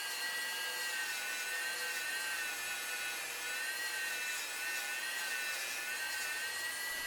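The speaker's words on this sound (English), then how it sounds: "My final cleanup is done using a Dremel abrasive disc." A Dremel abrasive disc cleaning up crushed marble makes a faint, steady high-pitched whine with a light gritty rasp, running without pause throughout.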